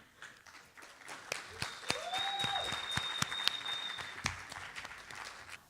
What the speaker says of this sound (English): giving a round of applause as she comes to the stage